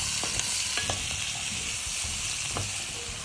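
Shallot cooking in butter in a pan gives a steady close sizzle. A few soft scrapes of stirring come through under it, and no one speaks.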